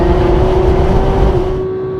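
A Porsche GT3 with a seven-speed gearbox pulls hard on a German Autobahn, a loud, steady engine drone holding one strong tone, fading slightly at the end; no talk.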